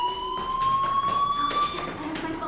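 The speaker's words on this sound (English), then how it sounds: "Hey, do you hear that fire alarm?" A fire alarm in the video game Life Is Strange rings as a steady electronic tone with pulsing bursts, moderately loud and continuous throughout, with faint background sound.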